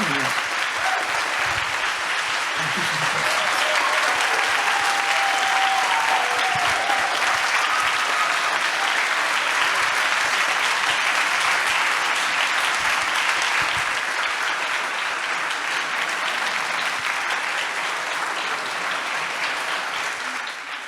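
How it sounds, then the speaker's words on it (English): A conference audience at a plenary session gives a sustained round of applause, dense steady clapping filling the room for about twenty seconds before tapering slightly at the end. "we will give him one more round of applause to thank you"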